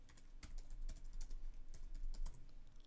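A Mac keyboard clicks close by as a short folder name is typed, with quick irregular keystrokes and no talking.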